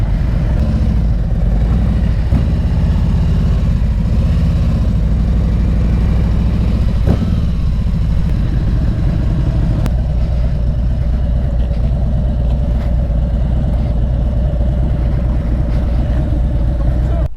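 Several Harley-Davidson motorcycles idle together at a group ride meetup, their low, steady rumble continuous and close throughout, with occasional clicks and people talking nearby.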